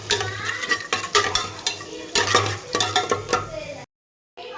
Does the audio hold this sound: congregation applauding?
no